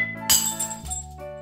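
Glass clinks and breaks indoors at home with a sharp crash followed by lighter tinkling, a short, close sound with no talking.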